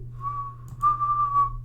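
A person whistles one steady sustained tone that breaks slightly and rises into a second held note, close and fairly loud with no other sounds.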